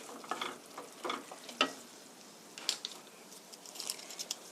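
Rigatoni being stirred through tomato sauce loosened with starchy pasta water, giving wet, scraping swishes and soft squelches in uneven bursts, near and fairly quiet, with a faint sizzle underneath and no talking.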